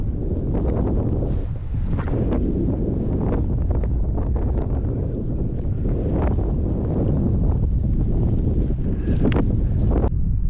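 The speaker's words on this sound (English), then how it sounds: "that wind was ripping right in his face." Strong wind buffets the microphone on an open September chukar hunt, a loud, continuous, close roar with gusty surges and no break.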